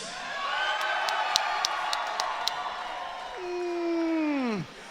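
Arena crowd at an XFN mixed martial arts fight night cheering and whooping ahead of the main event, a loud sustained roar with sharp bursts, then a rising whistle-like whoop that sweeps down and cuts off.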